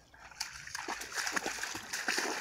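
A pointer dog jumps into a pond and thrashes through the water, making a run of splashes and sloshing that grows louder and busier over a couple of seconds.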